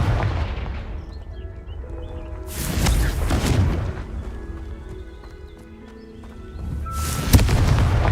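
A Confringo fire spell explodes in Hogwarts Legacy with two loud broad blasts a few seconds apart, each followed by rumbling decay, over background ambience with galloping hooves.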